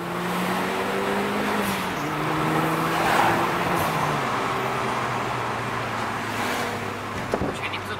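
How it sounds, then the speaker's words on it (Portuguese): A tuned Fiat Bravo T-Jet of about 260 horsepower runs with a steady engine drone whose pitch shifts slightly up and down. A sharp clack comes near the end, and a voice speaks faintly in the background. "então o motor tá só ligado"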